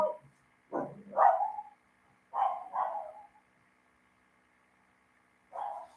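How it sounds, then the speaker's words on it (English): A dog barks in a handful of separate bursts, two close pairs followed by a single bark, moderately near and alone with quiet gaps in between. "my dog's always barking."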